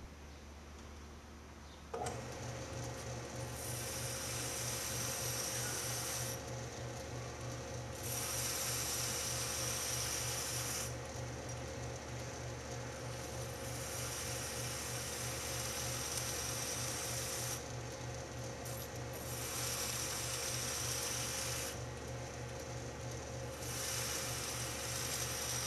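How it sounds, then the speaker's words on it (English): Steady mechanical whir of a grinder working a one-piece steel razor at slow speed, a continuous rhythmic drone that surges and eases in regular passes as the blade is pressed on and lifted, with no talking. "I'm grinding at a really slow speed here."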